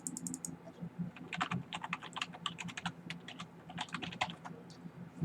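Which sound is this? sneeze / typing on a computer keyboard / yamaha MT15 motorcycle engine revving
typing on a computer keyboard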